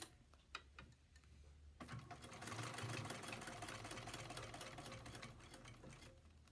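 A sewing machine runs a steady, fast stitching rhythm as it sews a seam right along the fabric edge, starting after a couple of light clicks and continuing close and moderately loud to the end.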